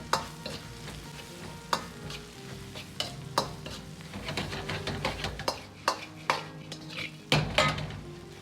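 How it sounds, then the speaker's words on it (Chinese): Drained green beans are stir-fried in a wok with chili paste and garlic, giving a steady sizzle broken by repeated sharp scrapes and clanks of the spatula against the pan, close and fairly loud. "接着倒入控干油的豆角翻炒均匀"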